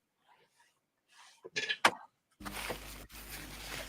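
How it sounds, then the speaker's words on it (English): A single sharp sneeze after a few quick breaths and a faint vocal wind-up, followed by steady broadband background noise from a fan. "Oh, hang on, I've got to sneeze."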